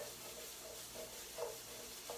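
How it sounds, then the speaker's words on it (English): Food sizzles quietly in a frying pan with a continuous soft hiss and occasional faint crackles. "you hear it sizzling"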